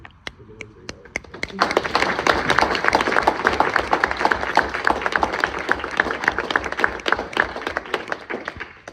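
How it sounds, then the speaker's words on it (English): A room full of people breaks into sustained applause, steady and lively for several seconds after a few scattered early claps. "I wanted to give one last round of applause actually for my fellow colleagues over here"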